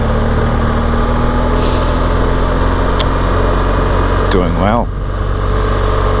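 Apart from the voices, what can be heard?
BMW GS motorcycle riding in second gear on mud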